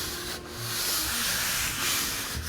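Steady, hard rubbing of paper pressed onto a large-format gelli printing plate picking up leftover acrylic paint, a continuous broad scraping hiss lasting a few seconds with slight swells and no voices.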